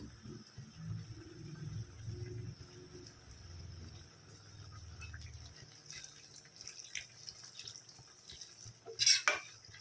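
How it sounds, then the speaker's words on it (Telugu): Water added to boti curry in a pan, a faint pouring and trickling with soft clinks of utensils, quiet throughout with a short louder splash near the end. "ఇందులో వచ్చేసి నేను కొంచెం వాటర్ వేస్తాను"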